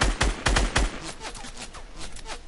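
Rapid volley of gunfire in Fortnite, several sharp close shots in quick succession at the start, followed by lighter, fainter pops and echoing reports.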